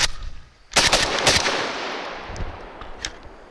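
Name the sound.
gunshots fired from a Century Arms Draco rifle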